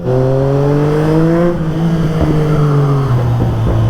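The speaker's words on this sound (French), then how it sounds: "Ma petite motocyclette qui sort 130 chevaux." Kawasaki ZX-4RR sport motorcycle engine revving loud and close, its pitch climbing high, then easing back and dropping with shifts near the end, no talking.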